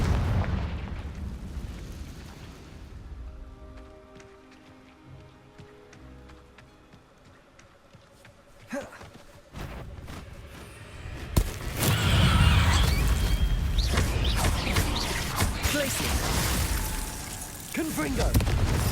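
A Confringo spell blast in Hogwarts Legacy, a sharp explosive crack followed by a loud, sustained rumbling burst of combat noise after a quieter stretch with spoken voices.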